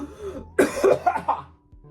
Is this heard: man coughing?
yes